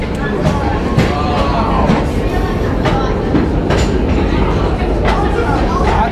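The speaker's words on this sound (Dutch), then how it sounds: "Het is een aardig treintje" A small tourist train rattles and clacks along the rails into a cave with a steady rumble and rhythmic wheel knocks, loud and close, as people talk underneath.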